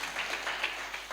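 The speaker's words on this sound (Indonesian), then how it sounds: "Yang percaya berikan tepuk tangan buat Tuhan kita" A church congregation claps together in a brief, dense burst of applause, fairly faint and steady throughout with no voices on top.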